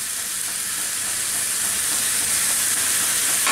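Chicken mince sizzles steadily in a frying pan, a dense continuous crackle at even loudness with no voices.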